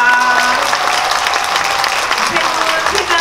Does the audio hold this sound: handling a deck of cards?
no